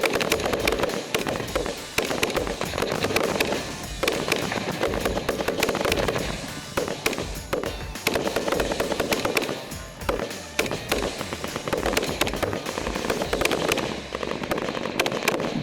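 Sustained rapid gunfire from a whole magazine being emptied into the dirt during training, a dense continuous barrage of sharp cracks that fills the entire stretch without pause.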